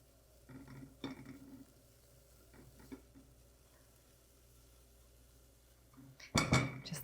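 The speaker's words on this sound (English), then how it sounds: "then we're going to add our grated zucchini. We're gonna cook that just long enough to get a tiny bit more moisture out of it" Grated zucchini is stirred in a pan over low heat, with a few soft scrapes and faint clicks of utensil on metal, then a louder burst of sizzling and stirring near the end.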